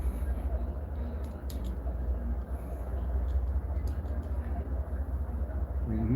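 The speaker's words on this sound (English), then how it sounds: "That's the train over there. The guy did say they stall from time to time." A train idling and stalling some way off, a steady low rumbling drone with faint clanks running through the whole stretch and no talk.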